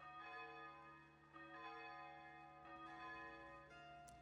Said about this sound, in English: Anytime you hear the church bells, it means it's a new month.